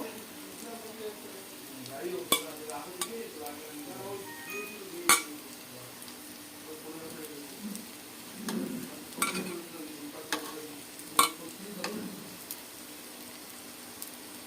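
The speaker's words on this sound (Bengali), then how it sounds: "এবার আমি এর উপরে কটা টমেটো দিয়ে দেবো" Tomato pieces go into vegetables frying in a pan for a vegetarian Ekadashi dish, with a soft sizzle under scattered utensil clinks and stirring knocks while someone talks.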